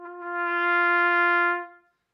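A single sustained wind instrument note with a soft, hesitant air attack, swelling gradually from quiet to full volume, holding steady as a clear pitched tone, then fading away over about two seconds, played alone.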